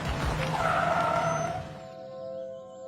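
Car brakes hard with a loud tyre skid lasting about a second and a half, then fading to a low engine hum, an urgent halt on a road.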